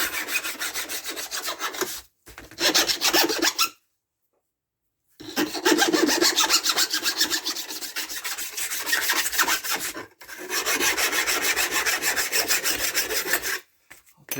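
A file rasping burrs off a chainsaw blade on an MS170 chainsaw, in repeated scraping strokes of a few seconds each, broken by short pauses.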